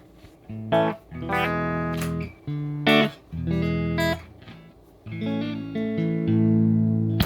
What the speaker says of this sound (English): And I'm playing through a Telecaster, so you're going to get those tones.